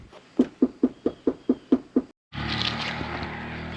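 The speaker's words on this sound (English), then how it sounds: "I'm gonna just go knock" Eight evenly spaced knocks rap on a door during a road trip in a 4x4 truck camper, sharp and close with a steady rhythm, followed by a burst of broad outdoor noise.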